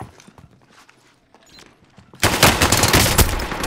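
Gunfire in a battle royale video game: faint shuffling and taps at first, then a sudden loud, sustained burst of rapid automatic fire up close.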